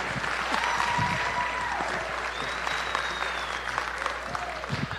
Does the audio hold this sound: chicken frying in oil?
no